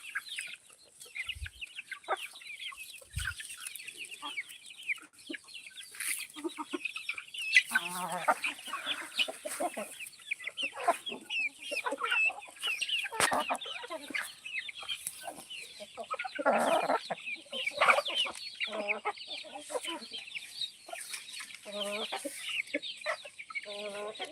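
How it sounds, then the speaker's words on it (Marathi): Three-month-old free-range desi chicks and hens on a village poultry farm cluck and chirp continuously in a busy, overlapping flock chorus, close and steady, with no speech. "तीन महिन्याची पिल्ली आहेत बघू शकता अशा पद्धतीने गावरान पिल्ल्यांची वाढ झाली आहे"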